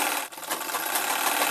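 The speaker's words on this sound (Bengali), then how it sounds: "সেলাই করে নেব, সেলাই করে জয়েনিং করে দেবো পুরো সায়াটা।" A sewing machine runs continuously while stitching the seam of a six-panel saree petticoat, its close, even whirr dropping out briefly near the start.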